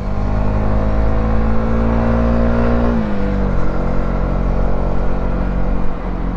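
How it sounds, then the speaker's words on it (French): A Honda CB125R 2023 single-cylinder motorcycle engine drones steadily and close as the rider pulls away, its pitch shifting briefly mid-way before settling back into a constant hum. "Me voilà entraîné par ce vaillant monocylindre de"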